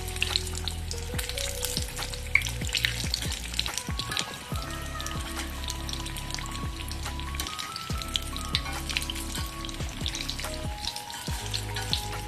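Chicken vada pav patties sizzle steadily in a hot pan, a continuous close frying crackle with occasional stirring scrapes, alone without voices.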